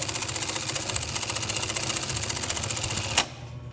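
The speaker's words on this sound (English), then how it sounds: "this is a 1-inch webbing, which is really tough when you're sewing a 1-inch pattern, but it can sew" An industrial sewing machine, a 68 Class converted to a regular bobbin, stitching a box-and-cross pattern through tough 1-inch nylon webbing, runs in a steady rapid mechanical chatter for about three seconds, then stops with a final clack.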